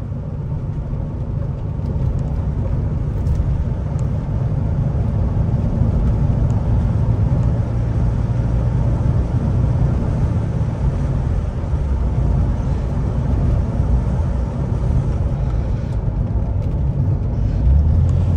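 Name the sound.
1986 BMW 635 CSi E24 car driving and changing gear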